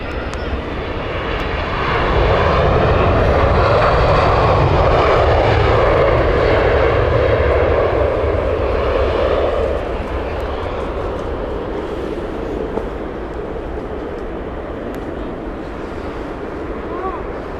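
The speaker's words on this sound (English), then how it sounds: "Vueling on final." A Vueling airliner on final approach at Heathrow Airport on a December day gives a loud, steady jet roar that swells after a couple of seconds and then slowly eases off, with gusty wind buffeting the microphone throughout.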